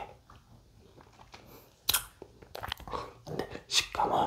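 Close-up chewing of raw sugarcane, crunchy and woody, with irregular snapping bites and wet grinding that get louder toward the end, heard alone with no talk.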